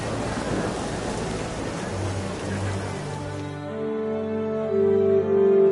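Steady rain hiss with a low rumble in The Witcher 3: Wild Hunt, then a sustained tonal hum rises toward the end; no voices.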